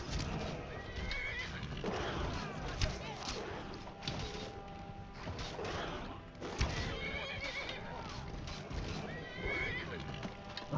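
A horse in a video game neighs and whinnies loudly amid clip-clopping hooves and thuds from the game, while people talk over the action.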